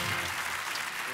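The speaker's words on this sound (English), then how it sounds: "The audience gave her a cheer," A theater audience breaks into loud, dense applause with cheering, a continuous wash of clapping filling the short moment.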